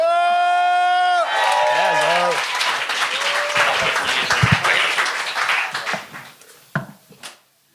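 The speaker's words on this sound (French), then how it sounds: "on accueille, commencez à applaudir Edison Mike Dufort!" Studio audience at a comedy talent show claps and cheers after a sustained tonal sound cuts off, the applause rising into a lively burst with scattered whoops, then thinning into a few last claps and falling silent.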